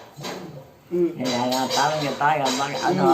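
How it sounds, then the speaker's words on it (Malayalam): A dog tossing its metal food bowl indoors makes clattering, clinking dish knocks, and a voice talks over and between the rattles. "അവൻ പാത്രം എടുത്തിട്ട് എറിയുന്ന ഒച്ചയത്"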